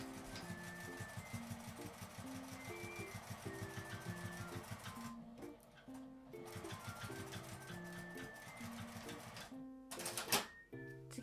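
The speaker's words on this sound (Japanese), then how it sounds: "端を縫います。" A sewing machine stitches along the edge of a palm-sized tri-fold wallet. It gives rapid, even mechanical clatter in two runs separated by a short pause, over soft background music.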